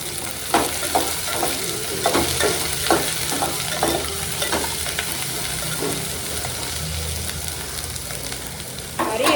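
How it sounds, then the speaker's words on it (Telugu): Okra frying in a pan with softened onions sizzles continuously, while a spatula stirs with a regular run of sharp clicks and scrapes for most of the stretch. A couple of louder knocks come near the end, with no talking. "ఆనియన్స్ అయితే మగ్గినాయి బెండకాయలు వేసుకున్నా"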